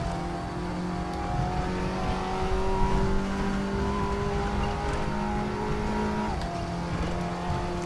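An Audi TT Cup race car roars steadily around the Norisring in RaceRoom, a loud, continuous engine drone with a brief gear change near the end.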